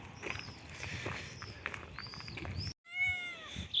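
A cat meows several times, close and clear, while cats are being fed; a steady rustling background precedes the calls.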